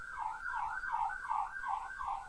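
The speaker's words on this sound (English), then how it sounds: "Sirens going past my house." Ambulance siren passing near a house, a rapid rising-and-falling electronic wail repeating about six times in quick cycles, steady and fairly clear with no talk over it.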